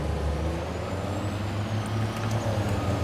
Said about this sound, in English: Is the truck too loud?